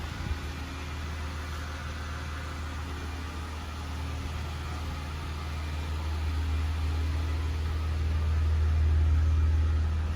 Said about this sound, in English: I'll just hop out with it running and let you have a look. There it is running.